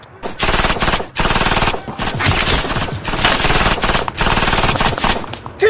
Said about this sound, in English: It's not snipers shooting at us!